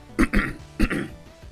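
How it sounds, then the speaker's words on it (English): Deep coughing and throat clearing, two heavy, close bursts each followed by a rougher rumbling tail, with no talk. "so I apologize for these deep, ugly coughs"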